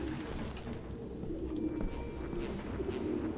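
Pigeons coo steadily in the game Detroit: Become Human, a dense chorus of low, soft burbling calls from many birds close by, continuous over an ambient background with no talk.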